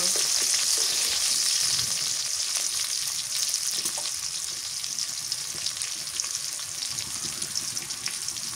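Garlic frying in hot soybean oil for greens, a steady dense sizzle and crackle running the whole time with faint stirring scrapes beneath, close and fairly loud, no voices.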